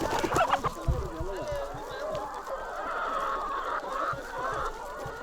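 Chickens clucking and squawking close by during a catch at a poultry market, with busy crowd chatter and background noise filling the scene, plus brief bursts of flapping and handling near the start.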